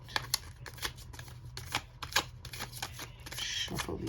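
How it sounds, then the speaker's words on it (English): Tarot cards shuffled by hand at close range, giving a quick series of crisp riffling bursts with short pauses between them and a longer rustling flutter near the end. The room is otherwise quiet. "Shuffle these up."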